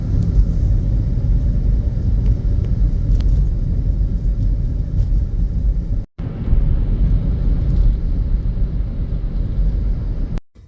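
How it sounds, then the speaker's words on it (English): Heavy traffic on a busy road, a continuous loud low rumble of cars passing close by, with one brief drop to near silence partway through before the roar resumes. "there's like so many cars just like zooming down the road"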